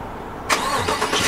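A 2017 Chevrolet Silverado LT extended-cab pickup starts by remote start, its engine cranking and catching abruptly after a quiet moment, then settling into a steady, fairly loud idle close by.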